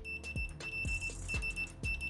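A Sanwa PS8a solar multimeter in continuity mode sounds with gold-tipped test leads, giving several short electronic beeps in quick succession over a steady tone, close and moderately loud.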